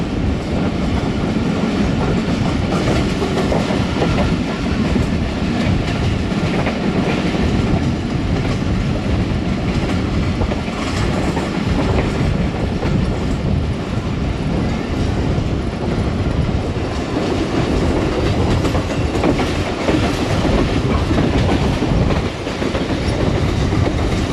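The 48 Down Rehman Baba Express runs through Chak Pirana railway station on the main line, a loud continuous rumble with steady rattling wheel noise and clatter throughout, heard close and alone.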